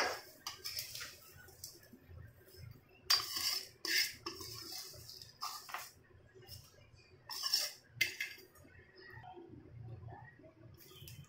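A spoon mixes lemon rice with tempering in a vessel, making quiet, irregular scrapes and clinks against the metal, plus a few sharper taps over a faint background.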